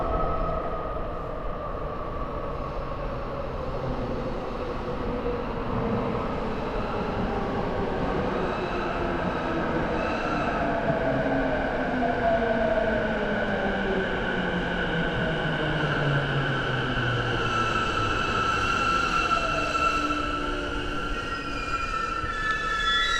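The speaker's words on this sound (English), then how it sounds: "We're on platform 11 on the Shinjuku station." Train cars running and braking at a platform in Shinjuku station, with steady rolling rumble and rising, falling wheel squeal through the whole stretch, close and continuous, with no talk.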